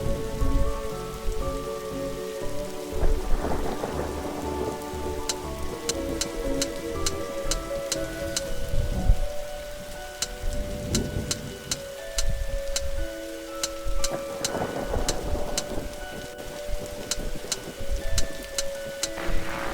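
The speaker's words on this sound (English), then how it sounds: "Look, Detective, the storm's dying out." Steady rain pattering over a dark ambience in the point-and-click game The Darkside Detective, with sparse ticking accents and low rumbling swells of a thunderstorm rising and fading beneath a musical drone, no talking.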